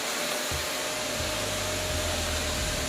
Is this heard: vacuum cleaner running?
yes